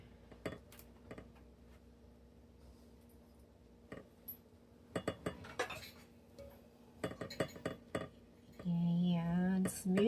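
A small spatula scrapes and taps against a dish while smoothing tiramisu cream, giving quiet, scattered clinks and soft scrapes with pauses, then a louder steady rush near the end.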